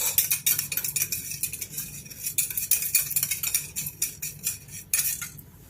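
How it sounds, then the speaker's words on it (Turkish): Brisk stirring of grain-free keto bread batter in a bowl, a utensil clinking and scraping the sides in quick repeated strokes, close and clear with no talking. "Ve iyice karıştırıyoruz"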